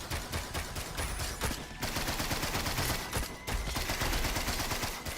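Rapid bursts of video game gunfire crackle almost continuously, dense and loud, with only brief dips between volleys.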